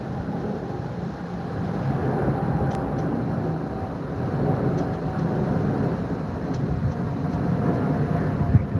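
A steady, broad, rumbling roar from an Emirates Airbus A380 passing overhead, holding a constant loud drone across the whole stretch with no speech.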